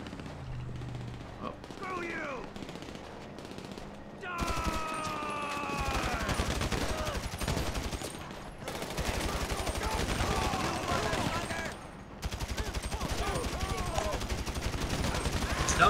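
Gunfire rattles in GTA Online: bursts of rapid automatic shots in dense rhythmic volleys, loud and close, with someone talking over parts of the shooting.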